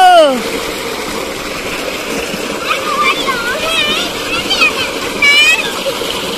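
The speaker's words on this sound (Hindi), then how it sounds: "अलीहा भी नहा रही है आज तो" A child bathes with water splashing and pouring continuously, while a voice chirps and calls over the steady flow.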